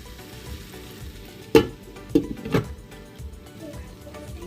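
Chicken masala for Thalassery biryani cooks covered in a pot, a soft low sizzle and bubbling with a few sharp clinks from the lid or spoon, and no voices.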